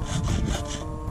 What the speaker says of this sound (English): I've made the decision to cut off the back of this stock.